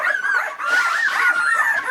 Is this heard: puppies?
yes